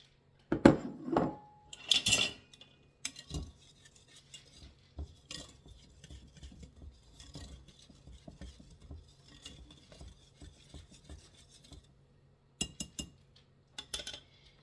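A spoon stirs flour and powdered sugar together in a bowl for Danish wedding cookie dough. Sharp clinks and scrapes against the bowl come first, then a long run of softer, steady stirring close by, with no talk.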